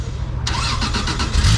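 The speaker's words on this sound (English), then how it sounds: "He's about to start this car up." A Jaguar E-Type's engine cranks and catches, breaking abruptly into a loud, rough, close running rumble after a low steady background, with the idle pulsing unevenly as it settles. Setting is Atlanta.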